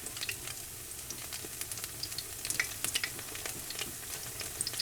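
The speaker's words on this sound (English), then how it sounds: "So I'm just going to let them fry and flip them over." Fish fritters sizzle steadily in a pan of hot oil, a quiet continuous crackle with scattered sharp pops and spits, no talking.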